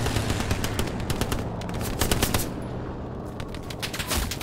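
Dense, continuous automatic machine-gun fire in the video game Hell Let Loose rattles loudly throughout, rapid bursts overlapping in a heavy, unbroken barrage.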